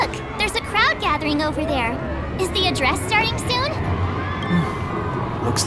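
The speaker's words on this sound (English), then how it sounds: "Look, there's a crowd gathering over there." A crowd gathering and cheering in Honkai Star Rail, with a busy murmur of many voices and scattered whoops and shouts beneath clear character dialogue spoken over the top.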